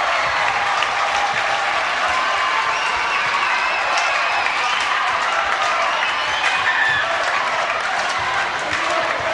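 Spectators at an international volleyball match between Belgium and Peru in Singapore applaud and cheer steadily, a dense, loud wash of clapping and crowd noise that holds throughout without pause.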